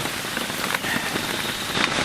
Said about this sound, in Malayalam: എന്താ മഴ അല്ലേ? നല്ല മഴ.